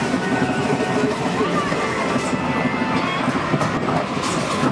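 A train rumbles past on a railway line in Lytham St Annes, a steady, close clattering roll with faint squeals, heard on its own throughout.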